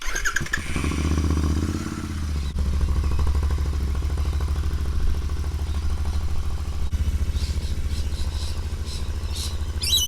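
A Royal Enfield 650 GT fitted with aftermarket mufflers starts up and settles into a loud, steady idle with a deep, throbbing exhaust beat that stays even throughout.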